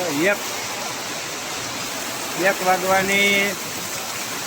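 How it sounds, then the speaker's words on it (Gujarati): Heavy rain pours down in a dense, steady roar, with a person's voice speaking briefly over it. "વરસાદ તૂટી પડ્યો."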